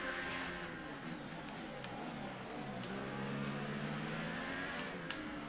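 An F1 race car engine in the F1 2018 video game drones and revs with rising and falling harmonic whine, steady and moderately quiet, no talk over it.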